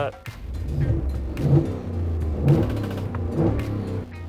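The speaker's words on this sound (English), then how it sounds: "that wonderful sounding 5-liter V8" A 2025 Ford F-150 Tremor's 5-liter V8 revving repeatedly, a loud, deep rumbling engine that rises and falls in roughly one-second surges, close by.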